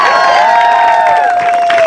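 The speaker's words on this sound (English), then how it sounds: "Another round of applause for Evan" Crowd applause and cheering at a dental office's annual candy drive event, a short loud burst of clapping with high whoops and shouts layered over it.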